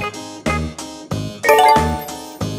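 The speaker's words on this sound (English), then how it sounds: "D for doorbell." A doorbell chimes repeatedly in a clear ding-dong pattern, several bright two-tone rings spaced roughly half a second apart, close and loud with no talking.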